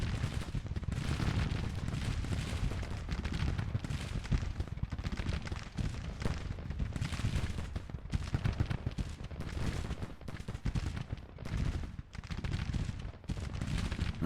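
Artillery fire in the Grand Tactician: The Civil War video game: a dense, continuous barrage of booming cannon shots and crackling gunfire. The blasts overlap in rapid succession throughout, loud and close, with no speech.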